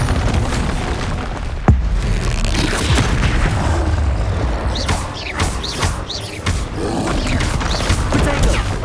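Bombarda explosion spell in Hogwarts Legacy, a loud booming blast with a sharp crack followed by rumbling debris and continuous dense game effects.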